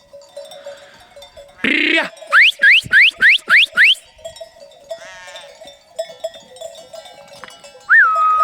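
Sheep and a lamb bleat near a village fountain, a loud quavering bleat followed by a quick run of short rising calls and a later lone cry, with faint bell clinks and quiet surroundings between them.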